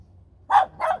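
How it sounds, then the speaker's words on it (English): A tiny dog barks twice, short sharp yaps about a third of a second apart, close and clear over a quiet, low background hum. "Tiny dog."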